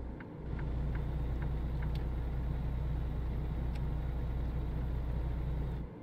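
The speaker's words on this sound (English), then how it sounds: "just listen to how quiet the truck actually is" Steady low engine rumble from a truck in a prison video game, quiet and constant with a few faint ticks and clicks above it, no talking.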